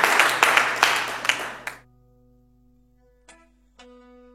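A concert audience applauds for Joyce Bateshi in a short, loud burst of clapping that fades out after about two seconds, followed by a sustained low tone and a couple of brief knocks.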